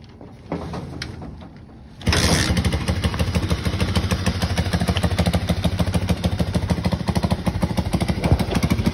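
A Racal 125 motorcycle engine is test-run after rewiring: after a quiet start, the engine catches near the two-second mark and keeps running loudly and steadily close by, with a rapid, even putter and no talk.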